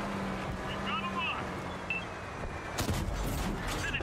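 Tank cannon fire from the T-27 in World of Tanks on console, one sharp broadband blast near the end over steady engine rumble and a low hum, with faint chirping effects earlier.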